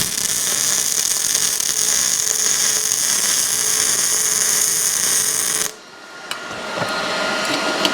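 A welder runs a constant bead to seal a body seam on a hot rod. A loud, continuous buzzing hiss holds for several seconds, then cuts off abruptly, leaving a quieter background with scattered faint ticks.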